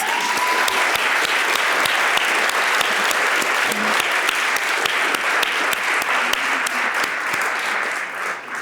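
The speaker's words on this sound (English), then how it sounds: "can we all please give her a round of applause?" Sustained, steady applause from a lecture-hall audience, dense clapping at an even loudness throughout with no voices over it.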